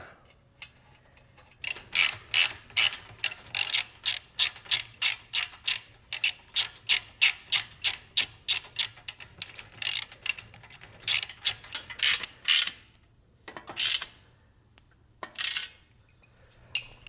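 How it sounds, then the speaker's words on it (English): A ratchet wrench tightens nuts and bolts on an engine hoist, giving a long run of quick, loud, evenly spaced clicks that slows into a few separate bursts near the end. "Put your nuts and your washers back. Tighten them down."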